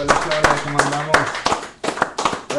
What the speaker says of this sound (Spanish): Recibamos con un fuertísimo aplauso a Cel Padilla